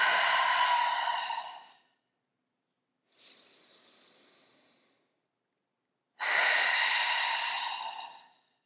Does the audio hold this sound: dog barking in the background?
no